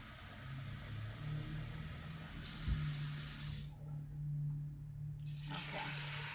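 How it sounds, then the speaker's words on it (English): Cold water from a tap runs into a pot of dried black beans inside an Instant Pot, a steady broadband rush of filling water that stops briefly and then resumes. "to these black beans, I'm going to add about 4 cups of cold water"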